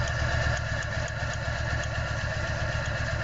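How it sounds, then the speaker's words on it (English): Nissan 1400 bakkie engine idling with a misfire, a close, steady mechanical drone with a slightly uneven, stumbling pulse running through it, no talking. "So we can see we've got a misfire"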